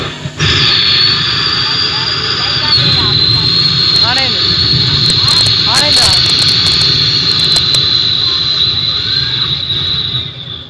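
A mimic voices a passing airplane as a loud, sustained whining jet roar with a steady high tone, held for about ten seconds before trailing off.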